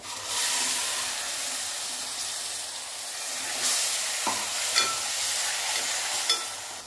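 Tomato paste and onions frying in oil with spices for a restaurant-style paneer cashew curry: a continuous loud hissing sizzle throughout, with a few soft stirring knocks, close by and with no talking.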